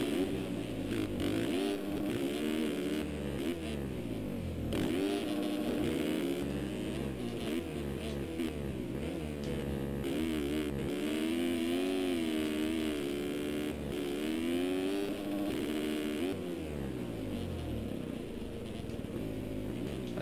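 Motorcycle engine in an MX racing video game, a continuous buzzing whine that rises and falls with throttle, revving steadily and loud for the whole stretch.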